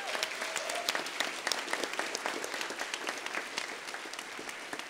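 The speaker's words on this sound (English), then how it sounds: "And actually, another round of applause," Applause at a college recognition ceremony for student speakers: many hands clapping in a sustained, crackling wash with individual claps standing out, moderately distant and without speech.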